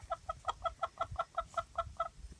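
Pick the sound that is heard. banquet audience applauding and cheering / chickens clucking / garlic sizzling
chickens clucking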